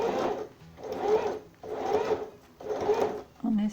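A sewing machine stitches a sleeve placket in short repeated runs, four bursts of rapid whirring separated by brief pauses, moderately quiet and close.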